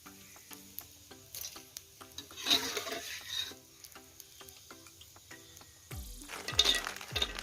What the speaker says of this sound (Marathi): आता आपण थोडेसे ड्रायफ्रूट्स तेलामध्ये भाजून घेऊया